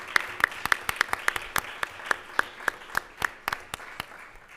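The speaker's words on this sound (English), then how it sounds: "Give these folks a round of applause." Sparse applause at a city council meeting: a dozen or so distinct, fairly sharp claps in a loose, uneven rhythm over about four seconds, with only a few people joining in.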